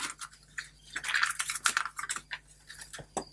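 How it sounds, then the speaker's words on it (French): Scissors snipping off the excess of a handmade traveler's notebook, a quick series of close, crisp cuts and clicks with no talking. "Je coupe ce qui dépasse."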